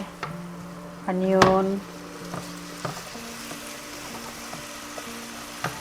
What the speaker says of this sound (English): stir fry your shrimp with the vegetables, any vegetables you want, with garlic